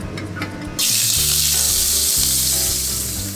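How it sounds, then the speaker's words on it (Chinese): Pork belly drops into a wok of hot, high-heat oil with an abrupt surge into a loud, dense sizzle that holds steady and close, with music playing underneath. "大火高温形成一层油膜之后再倒入五花肉"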